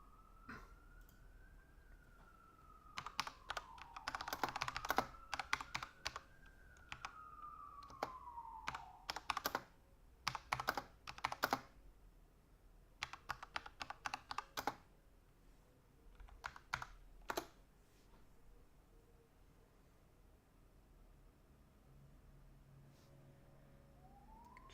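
Computer keyboard typing in irregular clusters of quick clicks, faint and close, while a police-style siren wails softly in the background.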